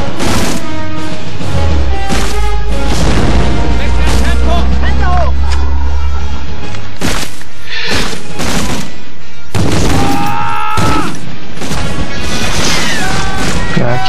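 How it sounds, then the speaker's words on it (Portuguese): In the PS2 game Medal of Honor Frontline, a loud mix of gunfire and explosions plays out: sharp shots, crashes and booming blasts in irregular bursts, with game voices heard among them. "Pior que tem uma metralhadora lá no fundo."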